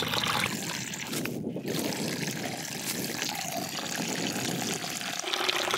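Water pouring from a hose into a U siphon test container, filling quickly with a steady close gurgling rush and splashing, continuous throughout.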